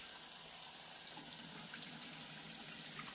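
Tap water running steadily into a pot while rice is rinsed, a soft, continuous splashing close by with no talking.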